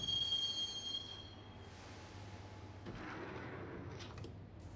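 A train ride in the video game Max Payne: a faint metallic wheel squeal and high whine fade into a low rumbling rail carriage drone, with clanks and rattles building toward the end, no voices.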